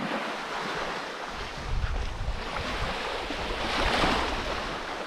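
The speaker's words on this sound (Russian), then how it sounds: "Дикий, дичайший пляж." Surf washing onto a wild island beach at Ko Middle Laoya, a continuous rushing roar of waves mixed with gusty wind buffeting the microphone, swelling louder toward the end.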